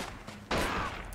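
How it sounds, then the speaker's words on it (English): A burst of gunfire in the WWII strategy game Men of War: Assault Squad 2 in Africa cracks out abruptly after a quiet start, loud and close, followed by another sharp report at the end. "Okay, start shooting."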